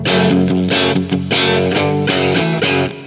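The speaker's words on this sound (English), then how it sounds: "I have the gain nearly to the maximum here." A heavily distorted electric guitar through a Neural DSP Quad Cortex amp model with gain near maximum plays thick, saturated chords in a steady rhythm, loud and close with no voices.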